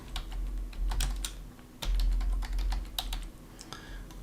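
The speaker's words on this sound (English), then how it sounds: "we'll go ahead and start typing here" Quick, uneven clicking of keys on a computer keyboard, close and clear, with brief pauses between bursts of typing.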